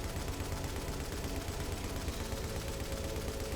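A light machine gun in the shooter game The Division fires a continuous, dense stream of rounds, a loud unbroken rattle lasting the whole stretch.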